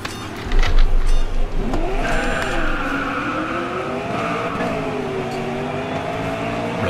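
Race cars launch from the grid in the racing video game GRID Autosport, engines revving and accelerating together with rising whines, a tyre squeal and a low thump at the start, then a sustained roar as the pack pulls away.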